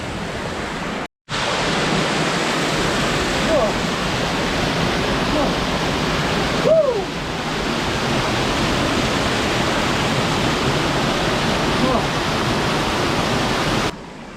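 A creek and waterfall at a campsite in northern New South Wales rush in a steady, loud broadband roar that continues almost unbroken, with a brief dropout near the start.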